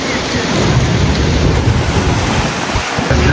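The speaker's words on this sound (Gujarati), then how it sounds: "આપણે અંદર આવ્યા ને વાવાઝોડું ચાલુ થઈ ગયું, છટા ચાલુ થઈ ગયા છે." A windstorm with rain roars steadily up close, a dense broadband rush with deep low rumbling gusts throughout, loud and unbroken.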